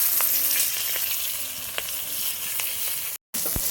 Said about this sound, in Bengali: এই যে আমার এখানে মাছ ভাজা হচ্ছে